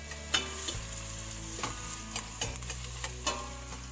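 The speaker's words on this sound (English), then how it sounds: "Roughly chopped onions are being cooked for next 5 or 7 minutes" Roughly chopped onions cook in a pan for butter chicken, a soft steady sizzle with several sharp clinks of stirring spaced through it.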